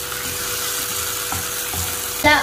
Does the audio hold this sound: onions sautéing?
yes